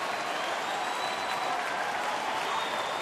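Baseball stadium crowd at a Toronto at Detroit game cheers and applauds steadily, a dense, constant roar of many distant voices and clapping with no break.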